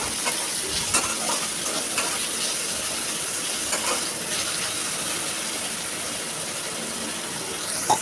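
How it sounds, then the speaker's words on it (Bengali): Paneer and potatoes frying in a pan, giving a continuous loud, close sizzle with occasional soft stirring scrapes and no talking. "এটা ভাজছে ততক্ষণ"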